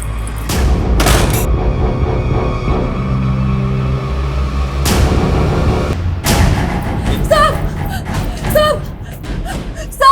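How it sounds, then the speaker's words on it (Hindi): Loud gunshots crack out in separate bursts, a couple early and more in quicker succession later, over a dull rumbling background. "गोली चलने की आवाज कैसे होती है ये मुझे अच्छी तरीके से पता है।"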